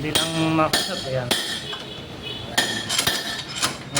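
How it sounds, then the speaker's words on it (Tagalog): A hammer tapping a ball race bearing into place, several sharp metallic clanks spaced irregularly, close by, with ringing between strikes and some background noise. "Nailapat natin gamit yung martilyo."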